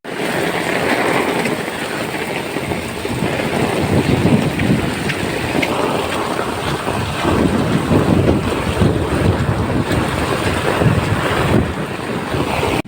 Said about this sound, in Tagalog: So medyo mahangin-hangin.